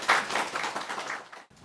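Audience applause at a Korean church worship service as a women's ministry team leader comes forward: a dense wash of many hands clapping at moderate volume for over a second, then cutting off abruptly.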